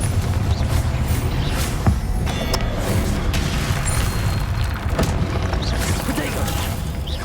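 Confringo blasting spells in Hogwarts Legacy detonating as loud, continuous booms and crackling bursts, layered over dense combat noise, with voices heard among the effects.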